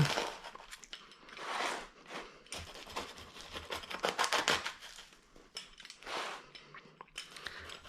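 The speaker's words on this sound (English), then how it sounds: "let's go ahead and cut into this. Here, nice and crispy." Knife or cutter crunching through a crispy Oreo cookie dough pizza, repeated close, dense crackling and scraping bursts that rise and fall over several seconds, no talking.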